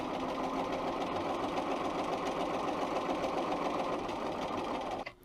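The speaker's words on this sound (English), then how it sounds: "and I'm going to sew along there." Bernina 440 sewing machine stitching a seam along a 3/8 inch line, a steady close, continuous mechanical whir with a rapid needle rhythm that runs unbroken for about five seconds before stopping abruptly.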